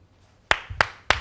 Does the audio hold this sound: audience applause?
yes